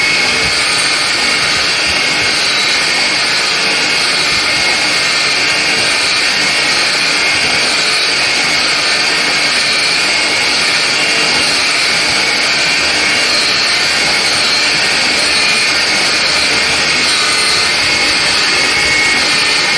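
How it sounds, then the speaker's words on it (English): A steel ER25 square collet block being surface ground, a steady loud continuous grinding whine and hiss filling the whole stretch without a break. "After grinding this surface perpendicular, I ground the opposite surface parallel to it and to dimension."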